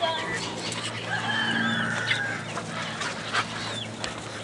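Backyard flock of Barred Rock, Dominique and Delaware chickens giving scattered soft clucks and rooster-like calls, with a brief flutter of wings, close by over a steady low farm hum.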